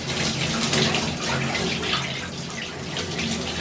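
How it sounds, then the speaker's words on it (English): Water from a bucket pours steadily over natural hair during a home wash, a continuous close, full splashing rush that lasts throughout. "I just go straight in with just the bucket of water, wet the whole thing first"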